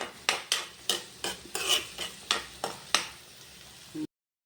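Spices sautéing for a beef curry, a ladle scraping and knocking in a pan in about nine distinct strokes over a soft sizzle, close and fairly quiet.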